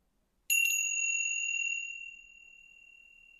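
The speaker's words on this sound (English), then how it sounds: "you will hear a first bell" A single meditation bell is struck once in a quiet room during a guided breathing session, a clear bright ding that rings on as a long pure tone and slowly decays into silence.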